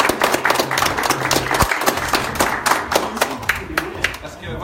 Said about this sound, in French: j'aimerais bien qu'on applaudisse Damien Hems, le professeur.